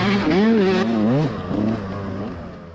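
A dirt bike in a GNCC off-road race at Mason Dixon revs past nearby, its engine note rising and falling in wavering pitch before fading.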